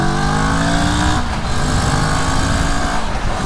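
A Moto Morini Seiemmezzo STR motorcycle accelerating hard on a dual carriageway, engine note climbing through a gear change with heavy wind rush, loud and close, no talk.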